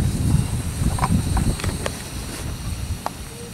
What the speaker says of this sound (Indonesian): Anginnya besar bosku.